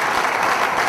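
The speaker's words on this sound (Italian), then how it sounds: "Un grande applauso per Alessandro." Steady applause from an audience at a motorcycle adventure event, dense and even with no pause for its whole second.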